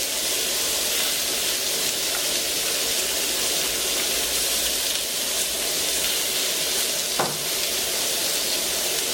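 Sardine fillet skewers sizzle steadily in a hot pan, a constant loud frying hiss with no talk, one faint clink partway through.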